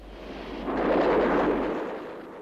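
A MiG-21 attacks ground targets with unguided rockets and twin 23mm internal cannon, heard as a single loud, rumbling burst that swells and fades over about two seconds.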